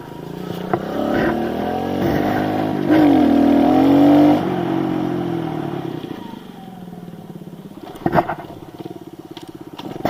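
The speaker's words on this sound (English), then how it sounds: "Pretty good little wheelie." Small motorcycle pulling a wheelie, its engine revving up and holding a high buzzing pitch for a couple of seconds, then easing off to a lower idle with a few blips and rattles.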